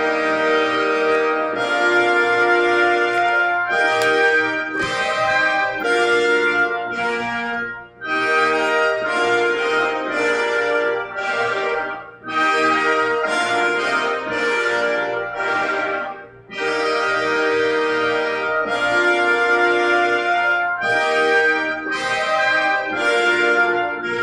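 Full orchestra with heavy brass playing Mussorgsky's Great Gate of Kiev, a loud, majestic processional of sustained chords separated by brief breaths, with no talking.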